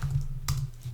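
Computer keyboard keys tapped while building a table in a document, a few soft clicks over a steady low hum with one sharper keystroke midway, close and alone without voices.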